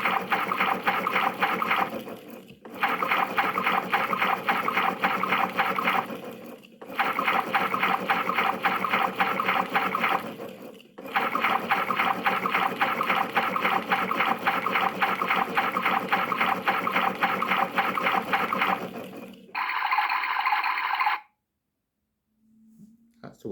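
A PlayGo toy washing machine runs its water-fill cycle, a loud electronic gushing and trickling effect that plays in several long stretches broken by short pauses, then ends with a brief higher tone.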